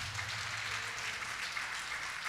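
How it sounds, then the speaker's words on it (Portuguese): A church congregation claps steadily in praise during a worship service, a broad even wash of applause with a low hum underneath, fairly faint and unbroken throughout. "Vamos aplaudir o Senhor, igreja."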